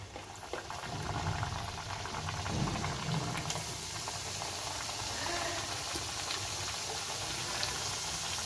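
Jibegaja sweets frying in oil, a dense, steady bubbling sizzle filling the clip at moderate level, close and unbroken, with no talk.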